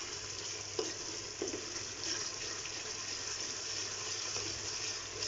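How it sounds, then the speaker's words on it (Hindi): Garlic sizzles steadily in a pot of oil while mutton haleem is being cooked, a constant close hiss with a few faint stirring knocks. "लहसुन बड़ी जल्दी फ्राई हो जाता है"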